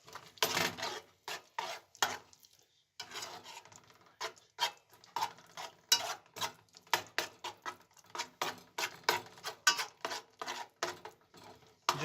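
A vegetable mixture is stirred in a pan over low heat, the spoon scraping and knocking against the pan in quick, irregular strokes with short pauses, close and clear with no talking.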